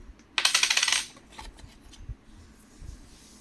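Indian rupee coins, including a 10-rupee coin, are handled and dropped, giving a bright metallic jingling burst up front followed by a few softer clicks and taps.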